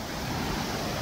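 A jungle river and waterfall on Doi Suthep near Chiang Mai rush in a loud, continuous roar of churning water, close and unbroken.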